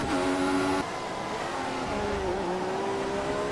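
A Formula 1 car in the F1 2014 racing game at Montreal screams with a steady, high-pitched engine drone that briefly shifts pitch early on, then holds continuously with no voices.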